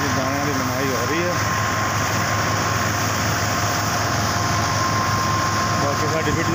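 An old-model Fiat 640 tractor drives a grain thresher during grain threshing, with a constant loud engine drone and machine whir that persist steadily throughout, and a voice speaks briefly near the start.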